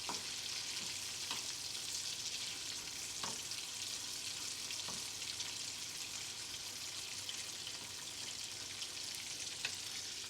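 Shrimp fry in a pan for Spanish scrambled eggs with asparagus and prawns, giving a steady, close sizzle and crackle with a few sharper pops and no talking.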